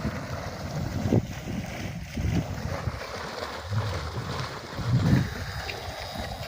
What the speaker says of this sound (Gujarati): તો હવે આપણે પાણી કરી દીધું છે ચાલુ